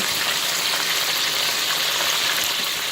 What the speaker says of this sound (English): I turn it over to fry the other side.